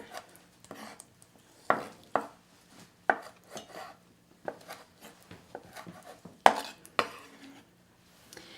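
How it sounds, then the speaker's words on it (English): A knife chops a Roma tomato on a cutting board in a home kitchen, with sharp, irregular close taps and thuds spaced apart, some harder strikes standing out, and no talking. "I'm just cutting up this Roma tomato here"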